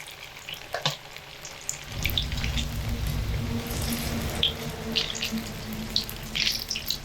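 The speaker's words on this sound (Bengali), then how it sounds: "মুইটা ভাজার সময় কিন্তু মিডিয়াম আঁচে ভাজতে হবে" Soybean muitha dumplings frying in oil over medium heat, a continuous bubbling sizzle that begins a couple of seconds in and holds steady, with a few sharp clinks and light handling noises on top.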